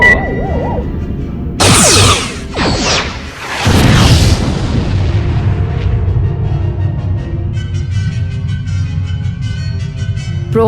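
Sci-fi weapons fire with rising and falling laser-like sweeps followed by a loud booming explosion that destroys a Federation probe in a Star Trek fan film, the blast leaving a long roaring rumble and a low electronic hum.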